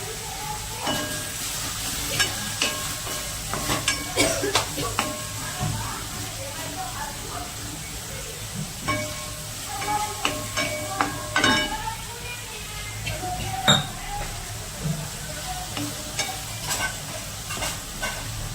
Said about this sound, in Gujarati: ટમેટાને બરાબર શેકી લેવાના છે આપણે।